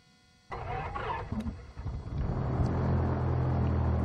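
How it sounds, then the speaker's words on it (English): Aircraft piston engine starting in a flight simulator game: after a quiet moment, the engine fires with a sudden loud burst and settles into a deep, steady rumbling idle. "Throttle advance when engine fires. It has fired right there."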